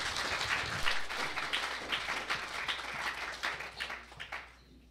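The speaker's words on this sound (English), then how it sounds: "why don't we all just give Nathan a hand clap as he comes" Congregation applauding at a Sunday morning church service as a guest speaker comes up, steady clapping from a crowd over about five seconds that fades near the end.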